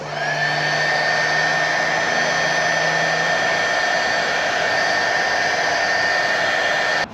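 Heat gun shrink-fitting tubing onto winch wiring leads for an Arctic Cat Prowler 650, a loud steady blowing whine held close for about seven seconds before cutting off.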